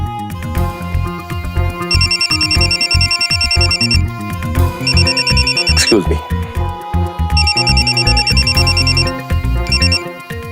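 A telephone rings repeatedly in a tense Indian crime drama scene, bursts of bright electronic trilling in a regular on-off pattern over dramatic background music, with a brief spoken line in between.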